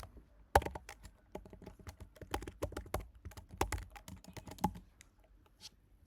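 A computer keyboard types out a URL while HTML link code is written, producing close, crisp clicks in quick irregular bursts with short pauses, and no voices.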